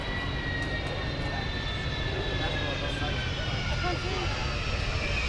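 An airplane lands at the Farnborough airshow, its engine noise a steady, loud, broadband roar that runs unbroken from start to finish with no other sound standing out.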